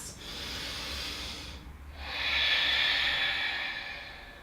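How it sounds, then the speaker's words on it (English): Slow, deep yoga breaths during a morning flow, a long airy exhale fading out, a brief pause, then a fuller, louder breath swelling and tapering, close and steady with no talking. "2 more breaths."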